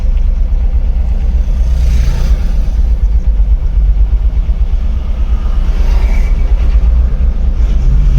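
A Tata Ace mini truck on the road makes a loud, steady low engine rumble and drone, with a faint rise in engine note now and then, and no talking.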